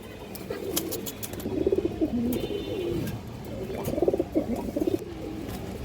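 A pair of high flyer pigeons coo nearby, their gurgling, rolling calls arriving in two clear bursts over a steady low background, with faint clicks scattered throughout.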